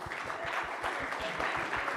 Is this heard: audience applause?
yes